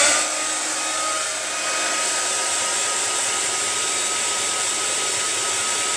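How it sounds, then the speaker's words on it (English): A hairdryer, used to warm a plastic or card model building, runs continuously with a steady high whine and airy rush, close and unbroken throughout. "you can use a hairdryer."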